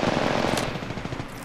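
Rapid automatic gunfire in a video game, a dense loud continuous stream of shots lasting the whole moment with no talking.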